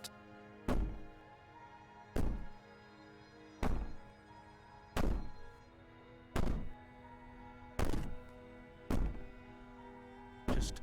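A princess bangs from a basement in Slay the Princess, heavy muffled thuds striking about every one and a half seconds in a steady rhythm, eight blows in all.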